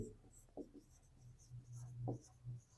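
A pen writes out a maths answer on paper, producing faint, close scratching strokes in short uneven bursts against a quiet room.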